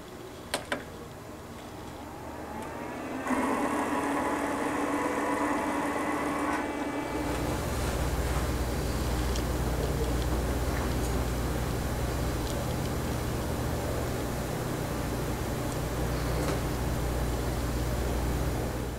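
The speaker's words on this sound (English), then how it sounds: "I'm now ready to tell the machine that I have a roll loaded." Vinyl cutter drawing a loaded roll of vinyl material through its rollers, a steady mechanical whir and rumble starting after a few seconds and running continuously, close and fairly loud with no talking.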